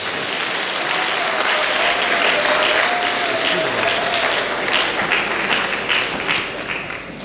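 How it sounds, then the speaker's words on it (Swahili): A congregation at a church gathering breaks into sustained, dense applause that holds steady throughout, with some voices mixed in under the clapping and a tapering toward the end. "makofi mengi mengi mengi mengi mengi mengi sana"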